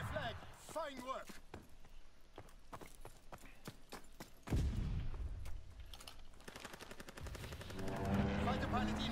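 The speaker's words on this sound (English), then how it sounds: "Fighter pilot inbound, strafing the target." Rapid gunfire from a strafing fighter plane in a capture-the-flag video game match, loud bursts of rattling shots building toward the end, with an announcer voice and game effects mixed in earlier.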